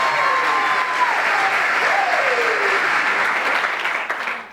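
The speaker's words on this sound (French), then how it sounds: "Veuillez acclamer les personnes, mesdames et messieurs." Wedding guests at a French civil ceremony applauding the couple, a loud sustained clapping from a room full of people, with a voice briefly speaking over it before the applause tapers off at the end.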